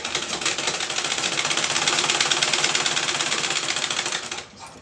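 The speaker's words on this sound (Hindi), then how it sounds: "अब मैं इसका सिलाई कर रही हूँ।" A sewing machine stitching a cloth sheet runs in a fast, steady, close mechanical whir of rapid stitches for about four and a half seconds, then stops abruptly, with no talking.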